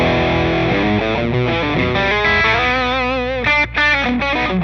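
Electric guitar played through a distortion pedal fitted with an 833 op-amp chip, a few seconds of thick, saturated chords and notes with a brief gap near the end, heard alone.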